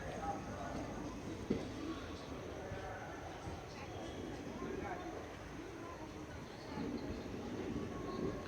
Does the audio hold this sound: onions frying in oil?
no